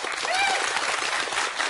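A studio audience applauds steadily in a dense wash of clapping, with a voice briefly heard over it, at a Norwegian TV debate show.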